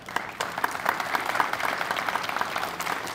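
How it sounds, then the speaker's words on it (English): Crowd applause at a college ribbon-cutting for a new Intercultural Center starts softly, then swells into steady, dense clapping that carries on evenly. "give yourselves a round of applause for that"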